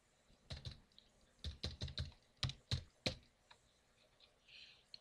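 Keystrokes on a computer keyboard while editing a configuration file in a terminal on Ubuntu, a quiet irregular burst of separate clicks, alone with no voice.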